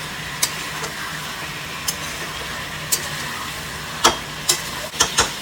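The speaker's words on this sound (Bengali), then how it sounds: "চিকেনটা আমার কিছুটা ভাজা হয়েছে, তার মধ্যে আমি আদা রসুনের পেস্ট দিয়ে দিলাম" Chicken pieces fry in a pan with ginger-garlic paste for a homemade biryani, giving a steady close sizzle broken by sharp clicks of a spatula stirring against the pan.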